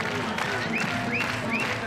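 Athletics stadium crowd at the Golden Fly Series high jump in Innsbruck, cheering and clapping in a steady dense wash for a high jumper, with a commentator talking over it.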